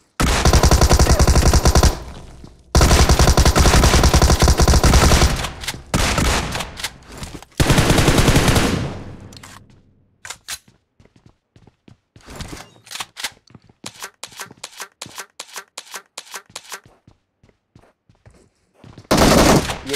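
Loud bursts of rapid shotgun fire in a video game, several long volleys followed by scattered single shots and sparse clicks, then another heavy burst at the end.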